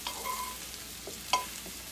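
Chard and burnt garlic fry in a pan with a soft, steady sizzle, broken by a few brief scraping stirs, one slightly louder clack, and no voices.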